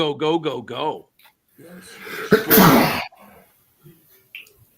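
A single sharp sneeze bursts out close to the microphone in the middle, preceded by a person talking and followed by quiet breathing and faint murmurs.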